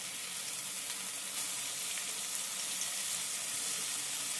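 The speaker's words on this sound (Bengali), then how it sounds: "এরপর আমি এর মধ্যে দিয়ে দেবো পোস্ত বাটা।" Poppy seed paste going into a masala frying in oil gives a steady, even hiss and sizzle with faint stirring, close and continuous, with no voices.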